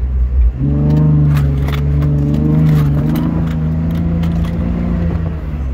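A 4x4 vehicle drives and turns across desert sand dunes, its engine droning steadily and loud throughout with a shifting rev and some rattling, no voices.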